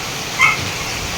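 A tied-up dog with puppies lets out a single short yelp or bark, brief and moderately close, over a steady background hiss.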